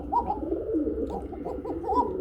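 A pair of red high-flyer Bachiraj pigeons coo repeatedly in close, warbling bursts that rise and fall with a clear, steady rhythm.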